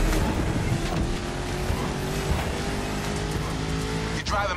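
A 1969 Mustang Boss 429 engine in the video game The Crew Motorfest roars steadily in the foreground, with some tire noise and indistinct voices mixed underneath.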